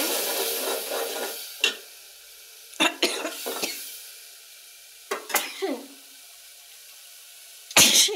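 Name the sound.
stir-frying spice paste in a pan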